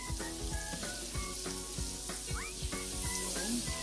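Butter melts and sizzles in a pan for garlic butter shrimp, giving a soft, steady frying hiss with repeated light taps and clatters over it.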